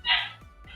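One short, sharp dog bark up close, followed by a faint softer yelp.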